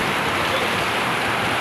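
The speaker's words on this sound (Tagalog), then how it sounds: "Lakas ng ulan sa labas." Hard rain falls outside with wind, a dense steady roar of drops that stays loud and even throughout.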